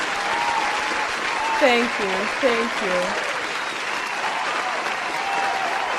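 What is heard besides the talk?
applause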